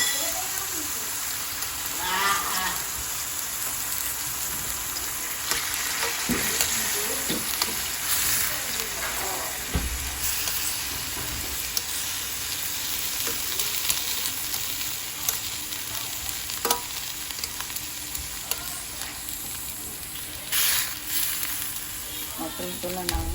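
Beefsteak (beef) frying in a pan, a steady loud sizzle with crackling spatters throughout, with occasional stirring sounds and brief speech nearby.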